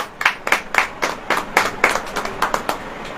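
A church congregation claps in steady, rhythmic unison during a sermon, with about a dozen bright, close hand-claps ringing out in quick succession and no voices over them.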